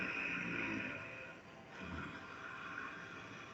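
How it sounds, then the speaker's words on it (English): Ujjayi yoga breathing, a steady snoring-like rush of air through a constricted throat, one long exhale shifting into a second breath, soft and close with no talking. "So Ujjayi is like a catch in the back of the throat."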